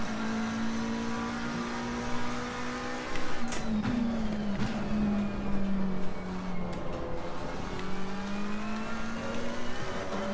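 A McLaren 720S in Assetto Corsa Competizione at Donington Park, its engine note building steadily under progressive throttle, with a falling pitch partway through as it shifts or lifts, then rising again, loud and continuous with no talk.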